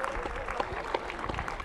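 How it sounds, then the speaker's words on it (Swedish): A crowd gives school children a round of applause, with steady, moderately loud clapping from a gathered audience. "Tycker de är värda en stor applåd"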